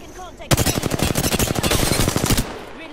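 Rapid automatic gunfire from an enemy team in a battle-royale shooter game, a dense burst of shots lasting about two seconds, loud and sustained, with a quiet lull before and after.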